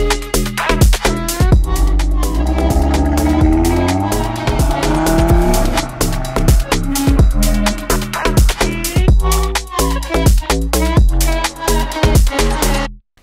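A 40th Anniversary Audi TT RS with a five-cylinder turbo engine drives hard, its loud, close engine note rising and falling with sharp bursts and crackles, no talking over it.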